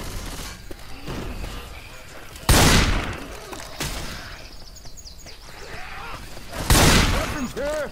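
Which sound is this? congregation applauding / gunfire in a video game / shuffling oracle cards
gunfire in a video game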